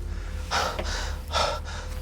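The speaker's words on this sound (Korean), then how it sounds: "숨을 헐떡이면서" Heavy, out-of-breath panting close up: two or three deep, rough gasping breaths in a row, loud and breathy over a low background hum, with no talking.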